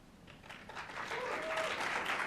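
Dinner audience clapping, starting light and swelling into a steady, moderate applause, with a faint voice briefly underneath.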